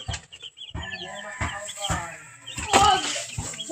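A laying hen clucks close by in a rural yard in Southern Leyte, giving short, repeated bursts of calls while a person talks over them.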